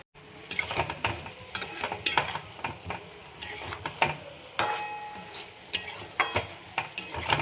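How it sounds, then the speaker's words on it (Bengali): Vegetables with salt, red chilli powder and turmeric being stirred and sautéed in a pan for rohu fish curry: a soft sizzle under frequent scraping spoon strokes and clinks against the pan, close by, with no speech. "এইভাবে মশলার সাথে সবজি সব কষিয়ে নেব একসাথে"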